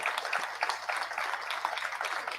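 Applause from a church congregation during a sermon, a dense wash of many hands clapping steadily for a couple of seconds at moderate volume, with no talking over it.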